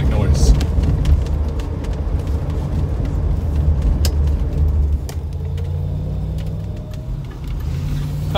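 A Triumph Stag's deep, rumbling V8 engine burbles steadily at low revs, loud and close, with faint ticks and clicks around it.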